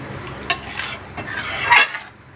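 Curry of pointed gourd with yogurt, sugar and slit green chillies being stirred in a pan, with scraping spoon strokes and a soft sizzle underneath, close and moderately loud.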